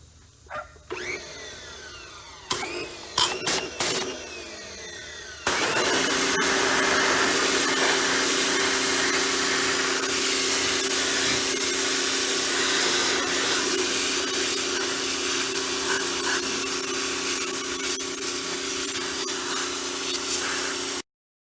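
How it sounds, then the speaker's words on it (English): Pressure washer spraying in a backyard, a steady loud hiss with an engine drone that starts abruptly after a few short clanks and bursts, then runs continuously without talk. "let's pressure wash"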